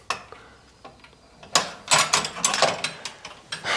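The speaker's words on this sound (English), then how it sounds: "I'll just use a wrench instead." A wrench works on a bolt under a 1955 Nomad gasser, with close, quick metallic clicks and clanks, soft at first and then a denser run of ratcheting and rattling near the end.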